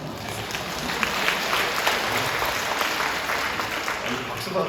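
A church congregation applauds in a steady, even wash of clapping that fills the whole stretch at moderate loudness without any clear break.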